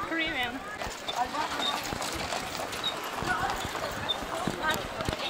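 Horse hooves clip-clop in an uneven rhythm amid a busy crowd on the Princes' Islands near Istanbul, Turkey, with people talking, motorbikes about and seagulls calling in the background.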